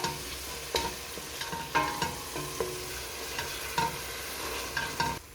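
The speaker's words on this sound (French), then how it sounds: "Là, vous venez bien mélanger." Lentils sautéed with tomato and small pepper stirred in a pan, a utensil scraping in repeated strokes every half second or so over a steady soft sizzle, close and alone.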